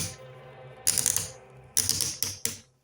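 Ratcheted ball-joint shoulders on a Transformers Studio Series 86 Commander Ultra Magnus action figure click close up in three or four short, crisp bursts of rapid ratcheting, with quiet pauses between them.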